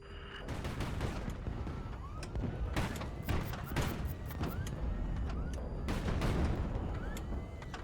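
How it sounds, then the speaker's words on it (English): Ammo cooking off inside a Sarma ship in the Highfleet video game sets off a rapid string of loud booming blasts and crackling detonations that go on across the whole span, with a few pauses between bursts. "That Sarma's had a huge ammo explosion happen inside it."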